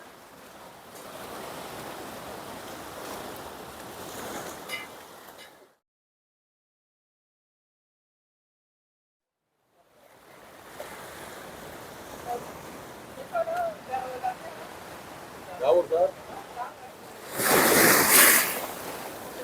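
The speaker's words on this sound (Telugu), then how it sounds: "నీళ్ళు ఎక్కువైపోతున్నాయి, అలలు ఎక్కువైపోతున్నాయి." Steady ocean surf washes over Padang Padang Beach in Bali, a broad continuous roar of waves that cuts out to silence midway, then returns with a few brief sounds and a loud crashing burst near the end.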